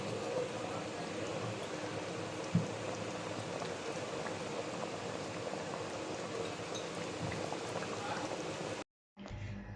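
A covered pot of chicken roast with a little sugar added simmers steadily, a soft continuous bubbling hiss with a faint clink partway through, before cutting off near the end.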